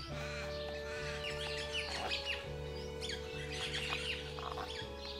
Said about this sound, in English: Magpies are common.